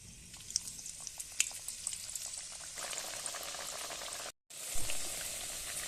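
Semolina snack pieces deep-frying in hot oil, a steady bubbling sizzle with scattered crackles and pops, briefly cut to silence near the end before the frying resumes, no voices.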